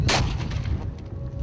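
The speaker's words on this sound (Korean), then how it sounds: "지금 총소리 들리구만" A poacher's gun fires at pigeons, one sharp loud report with a rolling echo tail, heard outdoors near a village.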